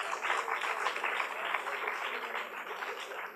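An audience at an annual research conference lecture applauds, sustained crowd clapping with a lively, uneven patter that stays fairly constant throughout without a voice over it.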